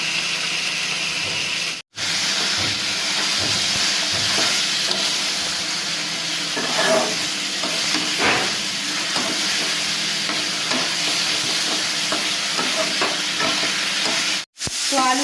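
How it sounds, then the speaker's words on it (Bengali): Spices and potatoes frying and being stirred in a pan for katla fish curry, a continuous close sizzle with scraping stirs and clinks of the spoon, no voices. "আর মশলা আমার খুব ভালোভাবে কষানো হয়ে গেছে"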